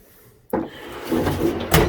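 A toolbox drawer slides on its runners in a workshop, starting with a sharp knock and then a scraping rub, and ending with a second knock, close up and loud.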